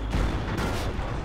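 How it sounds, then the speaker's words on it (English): Tank cannon fire in the WWII strategy game Company of Heroes, Normandy invasion campaign at Montebourg: a brief, dense burst of heavy booming gunfire and battle noise, loud and continuous. "Cannon on target. Fire."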